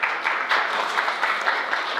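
An audience at a Bitcoin meetup in Beijing applauds, a steady, dense wash of clapping from a small crowd. It runs loud and even for the whole stretch with no voices on top.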